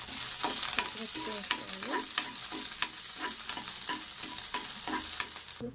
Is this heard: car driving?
no